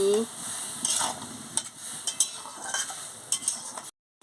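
Soybean chunks being stirred in a pot of hot salted water, with a spoon scraping and clinking against the metal in irregular strokes over a steady bubbling hiss, ending abruptly.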